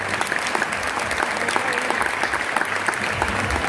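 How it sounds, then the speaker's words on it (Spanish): Steady, dense applause from the audience at an award ceremony, the Premios Graffiti 2020, sustained and fairly loud throughout with crisp individual claps, as a juror is invited up to present a prize. "Un aplauso para él,"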